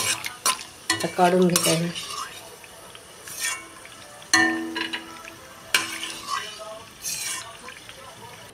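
Cashews frying in oil in a pan for chicken biryani, a soft sizzle with stirring and clinks of a utensil, broken up by someone talking over it at close range.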